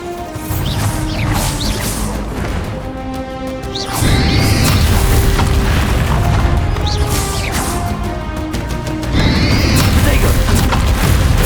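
The Bombarda explosion spell in Hogwarts Legacy goes off in heavy crashing blasts, first around four seconds and again near nine seconds, loud over a dramatic score and in-game voices.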